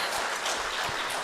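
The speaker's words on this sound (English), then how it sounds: "I request all of you to give a round of applause for the entire" An audience at a state-level conference on e-court initiatives gives a brief burst of applause, dense and even but fairly soft, lasting only a moment.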